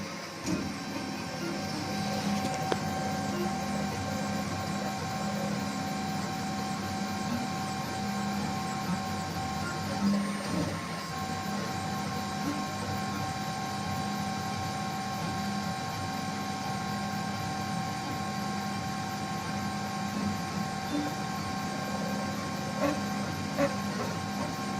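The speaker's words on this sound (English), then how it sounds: "There you can see the extruder moves to the position from where we'll start printing" An AccuCraft i250d 3D printer whirs steadily as its extruder travels into position, a continuous mechanical hum with faint stepper whines and occasional soft clicks, close and unaccompanied by talk.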